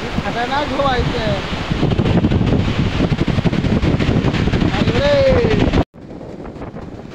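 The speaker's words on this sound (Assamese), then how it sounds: "খাতৰনাক ঢৌ আহিছে" Big ocean waves crash and roar onto Marina Beach in Chennai, a loud, continuous wash thick with wind buffeting, while faint voices sit underneath; it cuts sharply to a quieter surf rumble near the end.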